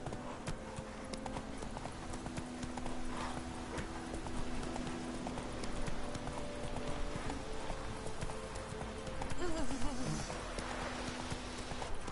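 Roach, a horse in The Witcher 3, gallops with steady rhythmic hoofbeats under game ambience, and a brief whinny comes near the end.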